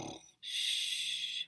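A storyteller's voice imitates a bear snoring during a bedtime story. After a brief vocal sound comes a single drawn-out, breathy, hissing snore, close and fairly loud.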